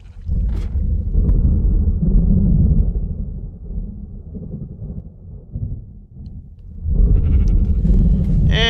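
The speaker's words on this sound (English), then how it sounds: "It is a sheep." Sheep bleating in the Minecraft video game, heard amid loud rumbling storm or tornado noise that fills most of the stretch, with a brighter call near the start and more activity toward the end.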